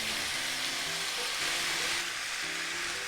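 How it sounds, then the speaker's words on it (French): Carrots and potatoes sauté in a pot for Japanese nikujaga, making a dense, continuous sizzle and crackle heard up close, with faint tonal sounds underneath and no speech. "C'est juste faire revenir en fait."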